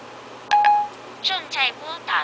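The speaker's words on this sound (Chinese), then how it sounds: "正在拨打吉米的行动电话" An iPhone 3GS gives a short pair of dialing tones after a voice-control call is placed, and a synthetic voice then speaks over a quiet background.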